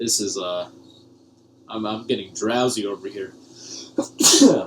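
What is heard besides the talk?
person sneezing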